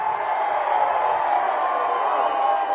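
A crowd at a TDP public meeting in Gurazala cheers in a loud, sustained roar that holds steady for a few seconds with no break.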